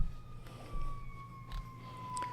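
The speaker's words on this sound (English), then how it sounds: "Lots of sirens here, but awesome views." Faint sirens wailing in the distance over low Chicago city rumble heard from a hotel room, a steady high tone sliding slowly downward.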